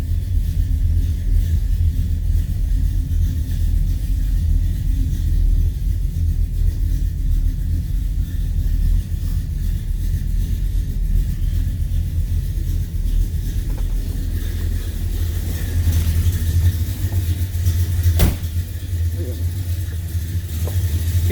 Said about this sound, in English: So you see right away, flick of the key, car starts up.